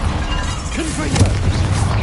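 Confringo blasting curse explosion in Hogwarts Legacy, a short punchy boom and crackle with a low rumble, heard close and mixed with a brief voice.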